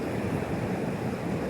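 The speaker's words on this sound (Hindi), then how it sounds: "इधर से पानी का लहर देख सकते हैं और कुछ इस प्रकार है, बहुत स्पीड जा रहा है पानी उधर" Fast-flowing river water rushes in a dense, steady roar, loud and close, mixed with wind buffeting the microphone and no clear voices above it.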